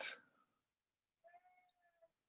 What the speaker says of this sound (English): I think you can hear my cat